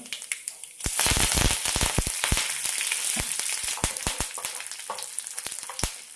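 Curry leaves dropped into hot tempering oil with mustard seeds for a chutney, a loud burst of sizzling followed by continuous frying hiss and sharp scattered pops and crackles.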